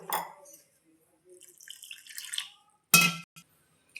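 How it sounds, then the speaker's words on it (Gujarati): Water is poured little by little into gram flour batter in short splashing bursts, with brief drips and a sharper splash near the end amid quiet gaps. "ગાંઠો ન વળે એટલે આપણે થોડું થોડું પાણી નાખશું."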